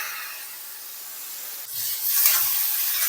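Boiled, half-cooked cluster beans are stirred in a pan, giving a soft, steady scraping rub that grows a little louder and fuller in the second half, with faint low knocks.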